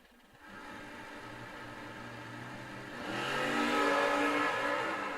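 A '67 Plymouth Cuda Hemi and a Mustang launch at a drag strip, heard as a distant engine roar that swells and climbs in pitch as the cars accelerate away.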